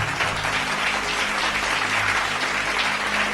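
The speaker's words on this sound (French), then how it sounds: "Est-ce que quelqu'un peut acclamer pour Jésus?" A church congregation breaks into sustained, dense applause and cheering for Jesus, loud and continuous throughout with no talk over it.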